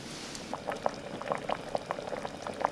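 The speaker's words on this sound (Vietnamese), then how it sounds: "Bây giờ thì mình cho cà rốt và khoai tây vào, nấu thêm 10 phút nữa cho mềm" A meat stew with carrots and potatoes simmers in a pot, bubbling steadily with frequent small pops and gurgles at close range.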